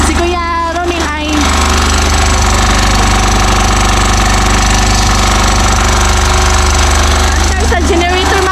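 A generator powering steel bar cutting at a building site runs with a loud, steady, rattling drone close by, and a voice briefly talks over it at the start and end.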